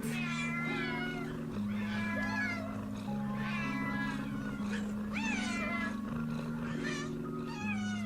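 A cat meows repeatedly in drawn-out, wavering cries, loud and close, over a steady looping musical backing.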